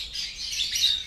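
A lovebird sings in a steady, high, thin warble, fairly faint and continuous with a light background hiss, with no voices over it.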